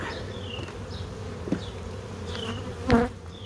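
A steady insect hum of honey bees buzzing around an open hive fills the background, with a couple of brief louder buzzes passing close by.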